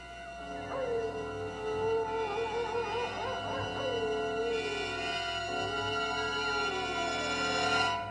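A wolf howls again in an old Western TV series, one sustained wavering call that rises, dips and trails off, heard at a moderate distance with no talk over it.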